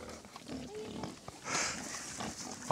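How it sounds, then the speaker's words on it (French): A pig on a summer mountain pasture grunts and snuffles in short, rough bursts at close range, with rustling and faint outdoor background noise. "Le cochon, il ne faut pas l'énerver."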